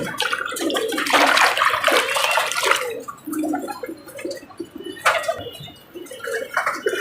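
Water splashes and pours over pigeons being bathed on a very hot day, with bursts of splashing and flapping and some bird calls, close and fairly loud, with no talk.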